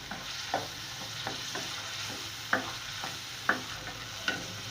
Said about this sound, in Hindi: अब थोड़ी सी देर बस फ्राई करके सौटे हो जाएं थोड़े से